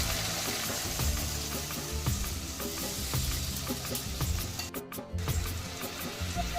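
Spice-washed water splashes into a hot pan of frying mustard and poppy seed hilsa gravy, setting off a loud, steady sizzle and bubbling that runs throughout with brief stirring clatter.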